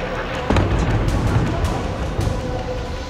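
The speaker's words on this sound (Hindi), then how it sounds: "बम की आवाज भी कई किलोमीटर दूर तक सुनाई देती है।" An airstrike bomb explodes in Gaza, one of several dropped from the air, giving a loud, heavy boom with a sudden onset followed by a deep, sustained rumble.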